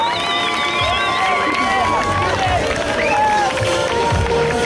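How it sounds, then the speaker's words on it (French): Spectators at the Roc d'Azur mountain bike race in Fréjus clap and cheer for a rider, a steady crowd roar with shouting voices rising above it throughout. "on peut applaudir bien fort Kevin Belozzo"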